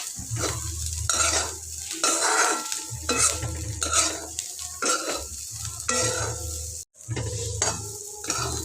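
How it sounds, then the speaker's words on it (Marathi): Bitter gourd (karela) stir-fried in a pan, rhythmic spatula scrapes and clanks about once a second over a steady sizzle, close and fairly loud, with a brief break near the end. "कारली भाजून घ्यायची व्यवस्थित मिक्स करून भाजायचे"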